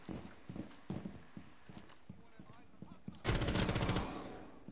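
Automatic gunfire from a weapon fired in full-auto mode: a loud dense burst near the end, following a series of sharp single reports and impacts, close and prominent.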